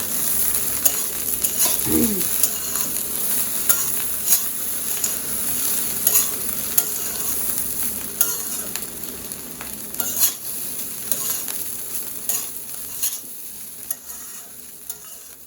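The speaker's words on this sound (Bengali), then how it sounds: "দেখেন ভাত ভাজা প্রায় হয়ে গেছে" Rice frying in a pan with coriander leaves: a steady, close sizzle runs throughout, broken by the scrape and tap of a spatula stirring at a regular pace.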